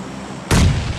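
A grenade blast in PUBG Mobile Lite, one sudden loud explosion after a quiet moment, its boom sustaining and slowly fading.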